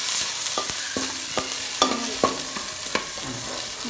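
Ginger and garlic fry in a pan, a bright steady sizzle broken by frequent sharp clacks of a spoon stirring against the pan, close and with no voices.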